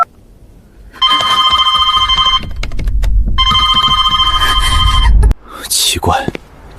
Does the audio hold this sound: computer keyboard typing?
no